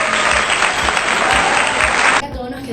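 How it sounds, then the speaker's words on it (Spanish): An audience claps loudly for women guests at a talk on oral and written reading, a thick, close wall of applause that cuts off abruptly near the end, leaving quieter room sound. "Gracias, se merecen un aplauso estas mujeres."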